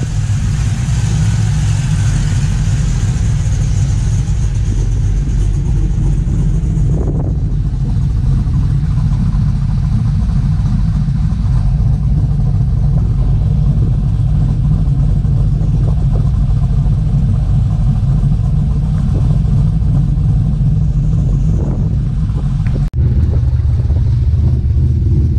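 An LS-swapped OBS Ford truck engine runs loud and steady at close range, a constant low rumble with slight shifts in pitch, briefly cut near the end.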